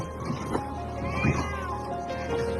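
Frightened cat trapped during a flood, mewing in thin rising cries over a busy background of rushing noise and voices talking.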